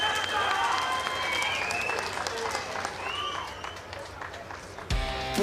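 Crowd cheering and applauding at a Little League softball game, dense sustained clapping and shouts at a fair distance, with a commentator talking over the noise throughout.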